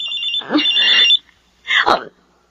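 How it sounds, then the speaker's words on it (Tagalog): A mobile phone rings with an incoming call, two electronic ringtone bursts separated by a short pause, loud and close, with a voice briefly over it. "Si Alma, tumatawag sa cellphone ko"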